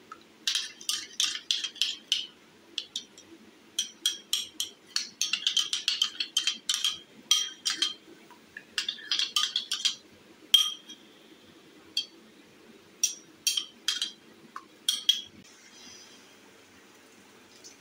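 Spoon clinking against a glass container while stirring sodium benzoate into homemade tomato sauce, with bright rapid clinks in irregular bursts and short pauses, close and fairly loud.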